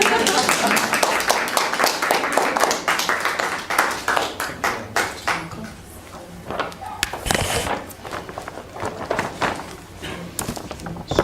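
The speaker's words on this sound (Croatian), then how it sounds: "Može neki aplauz, jel?" Audience applause at a Caritas event in Zagreb marking the presentation of a monograph: dense, steady clapping from a crowd that gradually thins and becomes more scattered toward the end.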